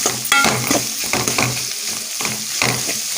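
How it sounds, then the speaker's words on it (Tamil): Green beans fry in hot oil with coconut masala and dried red chillies, crackling and sizzling loudly while a spoon stirs them in repeated scraping pushes, close and alone. "நம்ம தேங்காய் மசாலா வந்து நம்ம எண்ணெயில் பரட்டி எடுத்துக்கணும்"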